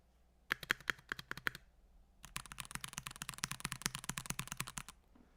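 Typing on a Mojo 68 mechanical keyboard, a short burst of crisp key clacks, a pause, then a longer rapid run of clicky keystrokes, close and distinct.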